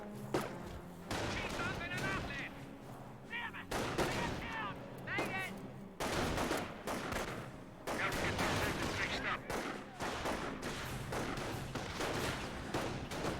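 Dense gunfire from a Company of Heroes battle: rifles and machine guns from building windows rattle in rapid bursts with heavy explosions mixed in, loud and continuous throughout, with no talk.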